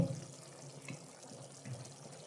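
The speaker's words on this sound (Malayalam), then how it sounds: "അപ്പോൾ അത് തിളച്ചു വന്നു" Soft, steady bubbling of water coming to a boil close by, quiet and continuous with no talking.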